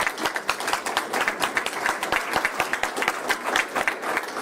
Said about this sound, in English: let's give the Knights of Columbus a round of applause